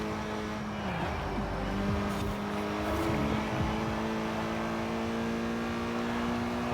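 A race car engine in a driving video game, a continuous whining drone that shifts pitch as it revs and changes gear, steady and fairly loud throughout.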